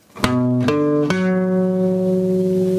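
A chord of notes three, six and ten rings out on a bright, steady synth-like instrument, entering in three quick staggered attacks and then holding as a loud sustained tone.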